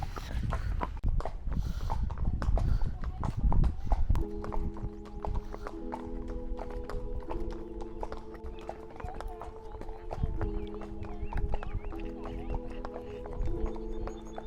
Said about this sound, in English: We started the horse ride.